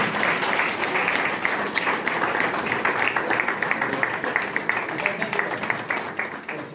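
An audience applauds steadily at the closing of a Punjab model bazaars refresher training course in Murree, dense clapping sustained throughout at close range with a few louder individual claps standing out.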